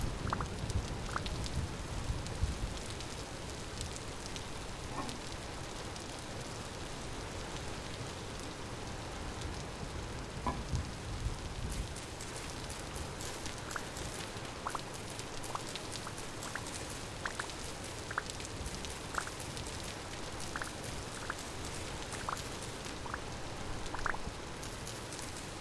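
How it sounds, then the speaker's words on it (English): Rain falling in the survival video game Vintage Story, a soft, steady patter running continuously at low level with scattered faint clicks and no speech. "The rain foley in Vintage Story is so much more genuine."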